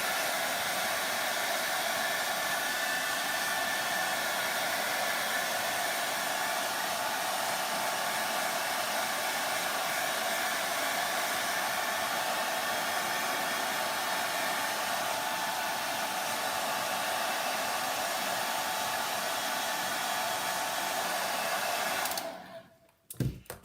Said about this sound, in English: When you're using the blow dryer, don't use it over the open containers of paint either.